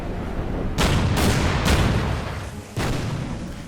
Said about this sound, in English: Good shooting by the destroyer type 1936.